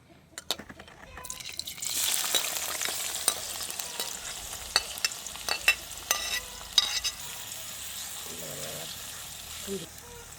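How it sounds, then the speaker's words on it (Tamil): Food sizzles and crackles in hot oil, a steady hiss with sharp pops and stirring scrapes, and a voice speaks briefly near the end. "நாங்கள் இன்னும் கரெக்டாக பொரிச்செடுப்போம்."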